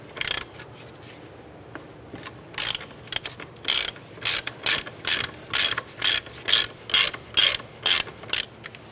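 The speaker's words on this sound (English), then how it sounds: "Now what we're going to want to do is loosen this nut and take it off almost all the way" A hand ratchet loosens the ball joint nut on the front suspension of a 2005–10 Jeep Grand Cherokee, giving close, loud bursts of rapid clicking that fall into an even rhythm of short strokes with brief pauses between them.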